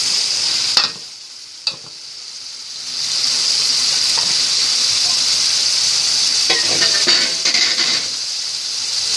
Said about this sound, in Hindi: इनको 1-2 मिनट तक हम भूनेंगे। ताकि इनमें मसाला अच्छी तरह से जज़ब हो जाए।